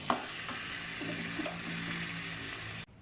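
Sliced shallots sizzling while being stir-fried in a pan, a steady hiss with a few scraping stirs throughout, cutting off abruptly near the end.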